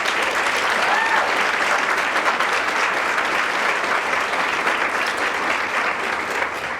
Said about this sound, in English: Big round of applause for both of our speakers.